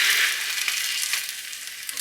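Hash browns sizzle steadily in a pan as they are pressed down, a bright, continuous frying hiss close up with small crackles and no talking.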